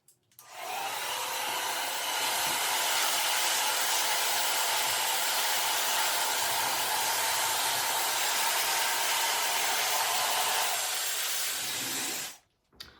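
A handheld hair dryer roars steadily while a round brush works through hair during a blow-dry, the loud close airflow hiss starting after a brief pause and cutting off near the end.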